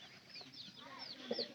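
A hen clucks softly in a series of short calls, faint and nearby, in a small backyard poultry setting with chicks.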